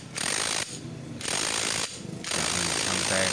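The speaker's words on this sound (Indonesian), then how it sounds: "Lanjut, kita mau pasang pada bagian baut rumah koplingnya." A clutch housing bolt on a Honda CBR is tightened in three quick rattling bursts of ratcheting, close and fairly loud, with brief pauses between them.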